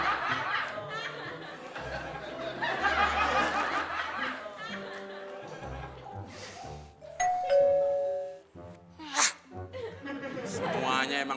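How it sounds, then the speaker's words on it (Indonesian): A doorbell is pressed and chimes with a ding-dong tone amid lively talking and laughter in an indoor scene; the ring stands out briefly near the end over the voices. "Pakai pura-pura mencet bel, mau jadi tamu."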